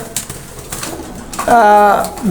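A pair of Chinese Teddy pigeons cooing close by, a low throaty coo rising over faint background noise near the end.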